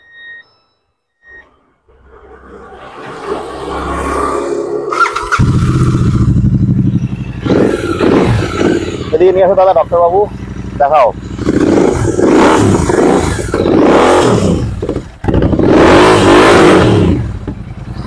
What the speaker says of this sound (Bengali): গাড়িটা একটু দাদা স্টার্ট দিতে বলো